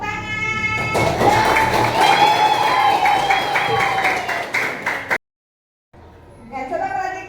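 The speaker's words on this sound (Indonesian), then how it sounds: "Iya, bagus, tepuk tangan." Children in a classroom clap in a quick, steady rhythm while their voices ring out together, loud and close, before the sound cuts off abruptly; after a short silence, talking resumes.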